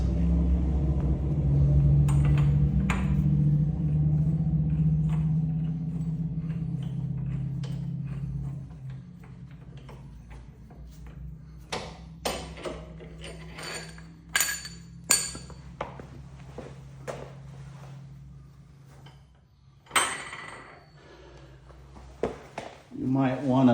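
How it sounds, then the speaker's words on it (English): Bolts are removed and tools clink during a lift-kit install on a 2024 Subaru Crosstrek Wilderness, starting with a low rumble and then moving to scattered metallic clicks and clanks close by. "Now I can remove these bolts."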